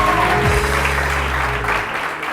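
A studio audience on a TV morning show applauds in a steady, dense patter of clapping over low music and hum, fading slightly toward the end.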